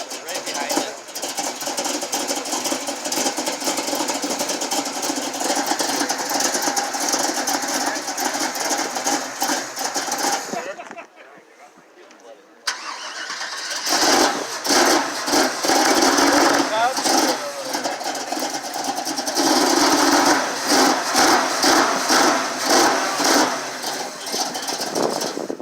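Vintage carbureted car engine with an aftermarket cam, started at an equipment auction: a steady loud running idle, a brief drop near the middle, then the engine catching again and idling roughly, with people talking over it.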